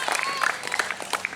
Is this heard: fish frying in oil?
no